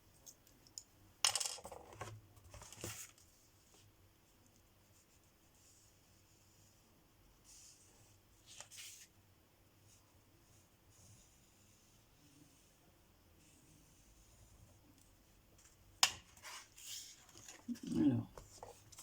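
Small clips snap onto the glued edges of pouches, a few faint, sparse clicks and light handling noises spread through an otherwise quiet stretch.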